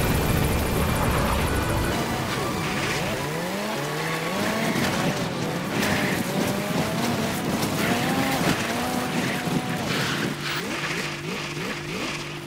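Small vehicle driven after leaving a helicopter in Metal Gear Solid V, its engine note droning and rising and falling with gear-like sweeps over a steady rumble, loud and continuous throughout.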